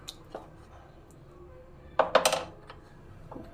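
A utensil stirs dal into spices in a cooking pot, a short cluster of bright metallic scrapes and clinks in the middle, with a few faint taps around it in an otherwise quiet kitchen.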